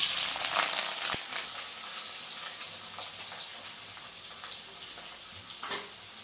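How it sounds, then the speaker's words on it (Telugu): Onion, two green chillies and curry leaves sizzle in three spoons of hot oil, a steady close hiss and crackle running the whole time with a sharp pop near the start, no voices over it. "ఆనియన్ ఆ మాత్రం ఫ్రై అయితే చాలు"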